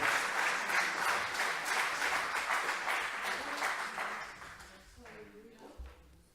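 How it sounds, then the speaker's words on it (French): A church congregation claps in praise of God, a dense wash of applause that gradually thins and fades over several seconds, with voices briefly audible as it dies down. "On peut applaudir notre Dieu."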